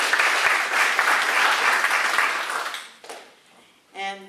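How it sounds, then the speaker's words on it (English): Dense, loud audience applause fills a District 1 candidate forum as the crowd claps for the sponsors, fading out after about three seconds before a short voice begins speaking. "So you could clap for our sponsors."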